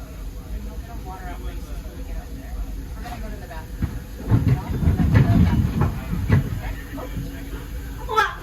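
The Disneyland Railroad steam train on the E.P. Ripley hisses steam and rumbles with clanking wheels nearby, growing louder toward the middle while a child and adult chat over it.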